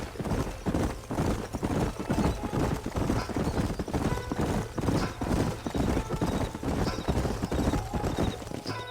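Steady clip-clop of several horses trotting in Red Dead Redemption Remastered, a dense continuous rhythm of hooves close by with a faint whinny in the mix.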